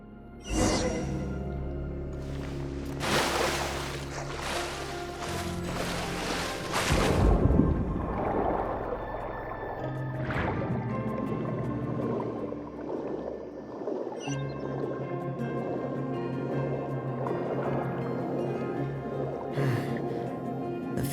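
Water splashes and gurgles in Genshin Impact as a character dives in, with a burst of churning and whooshing followed by softer bubbling and drips, moderately loud over a low ambient background with no talk.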